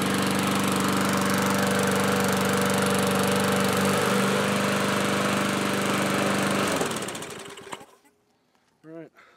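An MTD lawn mower engine runs steadily and loudly up close with a droning buzz, then winds down and cuts off near the end, leaving near silence and a short voice.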